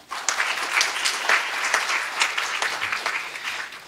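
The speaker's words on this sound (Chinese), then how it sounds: "请大家给Joe一个掌声，谢谢。" Audience applause for a speaker at the close of a machine learning talk, a steady wash of many hands clapping that holds throughout with no voices over it.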